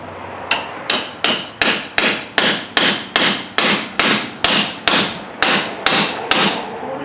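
A hammer taps a seal driver, held on a socket and extension, into a 2005 Ford Explorer rear wheel bearing: about fourteen sharp, evenly spaced metallic strikes, close and alone.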